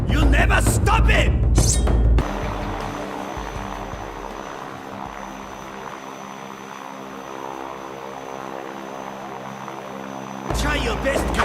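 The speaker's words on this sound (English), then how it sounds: "Try your best, Kaiji, but you'll never reach that plane" Steady, loud propeller-plane engine drone from a Red Steel Wii cutscene, with voices and louder action sound at the start and end.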